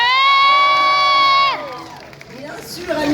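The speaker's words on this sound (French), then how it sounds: "On les applaudit s'il vous plaît." Loud crowd cheering and whooping at a manga convention in Valence, applauding cosplayers after a sustained musical tone cuts off; shouts and clapping rise toward the end.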